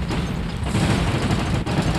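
Rocket explosions from the War Robots video game hit in a rapid barrage of booms and blasts. The loud bursts overlap one another continuously.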